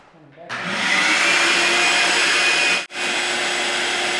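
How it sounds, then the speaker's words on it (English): Household vacuum cleaner switching on with a rising whine, then running as a loud, steady roar with a brief dip near the end before resuming, close by. "Vacuum kiểu gì vậy?"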